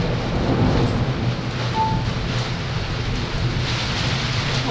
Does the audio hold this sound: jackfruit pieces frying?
no